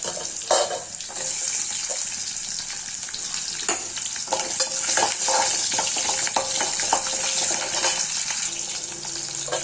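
Shallots and garlic fry in a pan, a bright steady sizzle with scattered crackles and occasional clinks and scrapes of a spoon stirring them around.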